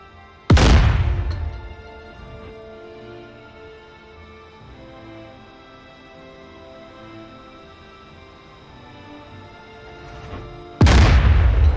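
A MiG-29 is destroyed in the DCS combat flight game: a loud, close explosion boom opens and another heavy blast closes, with a long rumbling, humming decay between them and no talk.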